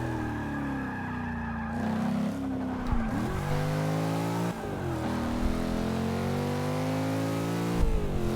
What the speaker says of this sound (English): going back to the sound of the engine, I'm sure Dodge made it sound like that on purpose